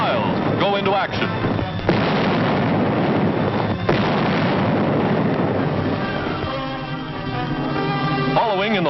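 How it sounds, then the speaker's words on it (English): 155mm Long Tom artillery rifles firing in wartime, heavy booming blasts rolling into dense continuous rumble, loud and chaotic throughout on an old radio recording. "Huge 155mm rifles, long toms capable of hurling a shell for more than 6 miles, go into action."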